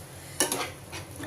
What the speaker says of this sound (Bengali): চলো এর মধ্যে একটু জল নিয়ে ঝাঁকিয়ে দিয়ে দিই।